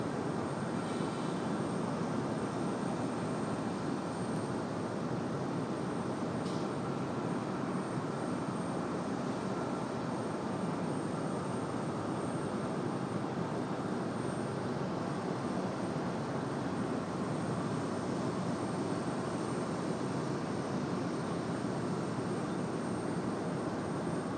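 A Cessna SkyCourier-type cargo aircraft, a cargo master, moving across from runway 3-2 at Raleigh Durham International Airport, heard as a steady broadband engine roar that stays constant and moderately distant throughout, with no voices.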